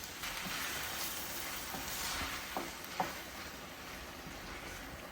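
Quiet, steady sizzling with soft stirring scrapes and a couple of small clinks, pumpkin puree stirred into Italian sausage frying gently in a pan, with no voices.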